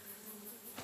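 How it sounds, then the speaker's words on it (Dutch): Bees buzz in a cartoon, a continuous droning hum that stays even and fairly loud throughout with no breaks and no talking. "Oh, ik zie bijen!"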